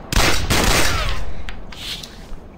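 Gunfire in the shooter game Sierra 7: a loud, close burst of shots opens and then fades into a rumbling tail, followed by a couple of smaller, sharper shots near the end, with no voices.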